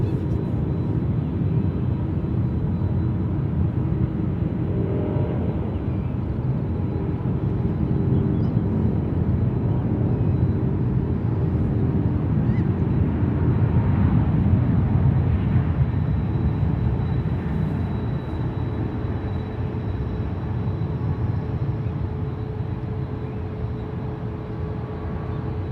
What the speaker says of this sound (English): It's United 2380 Heavy rolling down runway 28 left to Honolulu.